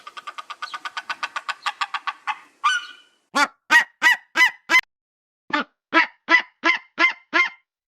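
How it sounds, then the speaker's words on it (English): A Steller's sea eagle gives a rapid run of short, harsh yelping notes that speeds up, then several louder, evenly spaced barking calls with brief pauses. "Take, for example, the Steller sea eagle."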